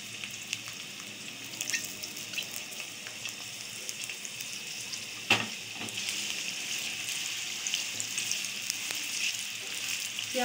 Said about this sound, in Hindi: साथ ही शामिल करूँगी प्याज लिए हैं मैंने 2 अदद और बारीक काट लिए हैं